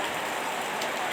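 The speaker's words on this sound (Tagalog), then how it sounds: "Ulan man." Rain falling, a soft steady hiss of drops on a surface, fairly faint and continuous for a brief moment with no talk over it.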